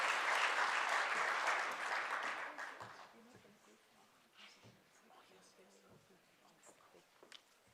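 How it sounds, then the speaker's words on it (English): An audience applauds the minister at the launch of South Africa's Just Energy Transition skills desk and advisory forum, a dense burst of clapping that fades after about three seconds into scattered claps and low murmuring. "ladies and gentlemen, give him another round of applause"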